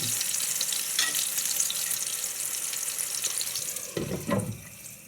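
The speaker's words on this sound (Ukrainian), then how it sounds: "І так вони будуть жаритися до готовності." Eggplant slices fry in a covered pan, giving a steady, dense sizzling hiss that continues without pause, with a couple of faint clinks or stirs partway through.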